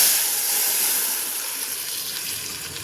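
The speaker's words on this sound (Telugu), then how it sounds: "ఇప్పుడు ఇందులో సాంబార్ వేసేద్దాం." Hot tadka of asafoetida hissing as sambar is poured in, a steady broad sizzle that holds close and loud for a few seconds, slowly easing off.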